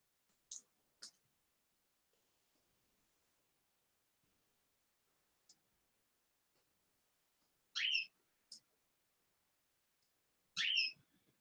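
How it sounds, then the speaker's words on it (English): Pet canaries chirp a little in the evening from across a quiet room, with a few sparse, high, thin chirps and twitters spaced out by long silences. "Hear my canaries over there chirping a little bit this evening."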